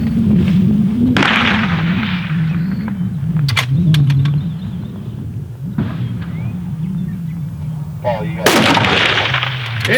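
Rifle shots at an outdoor long-range shooting match, several sharp loud cracks spaced irregularly with a deep muzzle boom, heard under people talking nearby and some birdsong.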